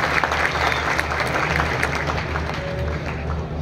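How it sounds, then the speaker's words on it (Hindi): Audience applause at a property ballot event in Lahore, an even, moderately loud patter of many hands clapping in a large room over a low hum. "तालियां होनी चाहिए"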